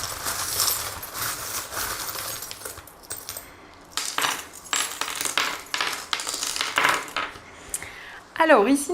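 Small metal oracle charms being handled, jingling and clinking together in quick irregular bursts, close and fairly loud, with brief pauses between handfuls.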